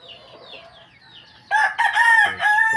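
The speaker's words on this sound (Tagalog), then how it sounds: "Update lang po tayo sa ating mga alagang manok" Soft clucking and bird chatter from backyard chickens, then a loud nearby rooster crows in a long, strained call.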